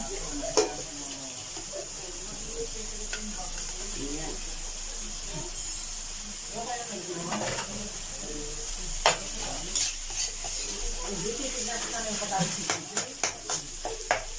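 An egg fries in a pan and is stirred into fried rice, giving a soft sizzle with scraping strokes. A burst of quick spatula taps comes near the end, and a voice talks at times.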